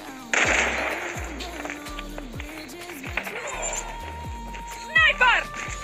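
A land mine explodes in the mobile shooter Call of Duty Mobile, a sudden loud burst followed by layered rumbling blasts and scattered game effects, with someone talking excitedly throughout.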